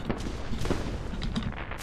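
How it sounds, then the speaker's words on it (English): Fireworks bursting in a video game, a rapid run of dull popping blasts packed closely together over a steady rumbling background, at moderate loudness. "Fireworks."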